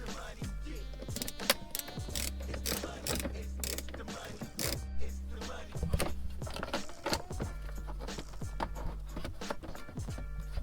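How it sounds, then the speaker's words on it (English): Four Torx screws come out of a tab on a ZL1 Camaro with a close ratcheting tool clicking in quick irregular bursts and metallic ticks, under a low steady hum. "4 Torx screws. Go ahead and remove those."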